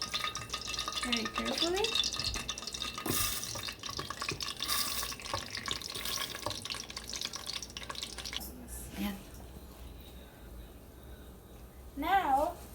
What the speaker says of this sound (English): And now we're going to add our rice.